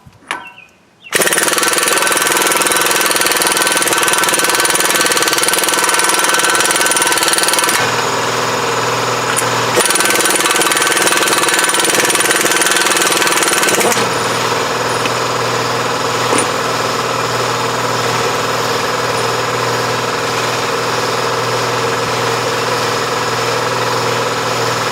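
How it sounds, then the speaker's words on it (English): An air compressor runs steadily in a garage during front hub removal on a 2001 Chevy 1500HD, a loud continuous mechanical drone that starts abruptly after a brief quiet moment and holds for the rest of the clip. "I'm glad the compressor kicked back on."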